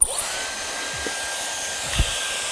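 A Dyson hair styler runs steadily close by during a hair-straightening routine, giving a continuous airy whoosh with a thin high motor whine and a couple of soft handling bumps, with no talking.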